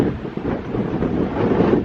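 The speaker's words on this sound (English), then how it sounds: "It has been extremely windy and chilly and cold." Strong, chilly wind on Martha's Vineyard buffeting the microphone, a loud continuous roar that surges and eases, with no voices.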